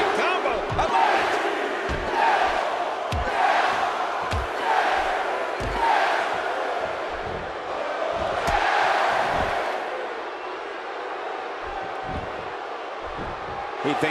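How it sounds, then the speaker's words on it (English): Video game arena crowd in WWE 2K16 at Extreme Rules, roaring and chanting in rising waves during a wrestling comeback, with rhythmic thumps of ring action cutting through and a commentator talking over it. "And listen to this crowd"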